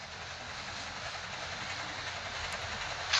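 A video game train in Indian Bikes Driving 3D rumbles along with a steady broadband roar, even and sustained, ending with a brief sharper clatter.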